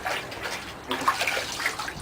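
Hot water runs and splashes while a wooden rifle stock from a Mosin Nagant is rinsed and rubbed during finish removal, a steady close wash with small drips and rubbing noises.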